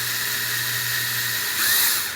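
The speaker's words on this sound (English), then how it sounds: "now I'll just come through here with a drill, and all I'm going to do is put it right in the center" A power drill bores locating holes into the firewall for a brake pedal mount on a 1953 Chevrolet, a steady high-pitched whine that rises and strains louder near the end.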